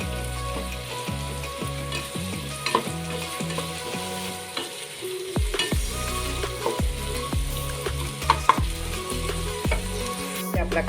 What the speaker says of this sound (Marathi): तर इथे मी मोठ्या आकाराचा एक कांदा बारीक चिरून घेतला आहे, तो चांगला आपण आता परतून घ्यायचा आहे